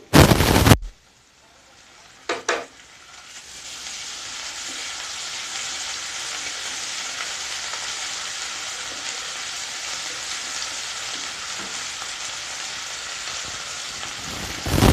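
Ginger garlic paste hits hot oil with softened onions in a pan, bursting into a loud steady sizzle that holds for over ten seconds after a couple of brief clatters at the start.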